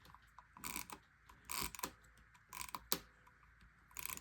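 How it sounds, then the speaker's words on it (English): Mini tape label printer running on a scrapbooking desk, giving several short bursts of whirring, clicking mechanism noise separated by brief quiet gaps, close and fairly faint. "I guess I will use my mini tape printer."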